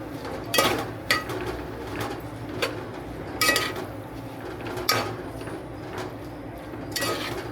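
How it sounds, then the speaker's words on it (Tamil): Mint and coriander leaves sautéing in a pan for biryani, a low sizzle under repeated clanking spoon-on-pan strokes, close by, with no talking. "புதினா கூட கொஞ்சம் வந்துட்டு கொத்தமல்லியும் சேர்த்து போட்டிருக்கேன். ஸோ இது கொஞ்சம் நேரம் வதங்கும்."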